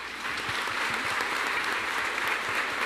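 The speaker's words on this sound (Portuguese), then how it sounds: "A Jesus, que nos faz mansos e humildes, façamos um aplauso bem bonito." Congregation at a solemn Mass for the perpetual jubilee of Nossa Senhora da Saúde breaks into steady applause, a dense wash of many hands clapping at even volume throughout, with no voices standing out.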